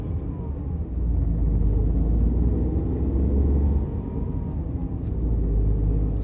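Steady low engine rumble from a Tata Tiago iCNG with an AMT gearbox while driving, a continuous cabin drone that dips briefly around one gear change before settling again.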